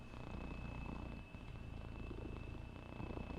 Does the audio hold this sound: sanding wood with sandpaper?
no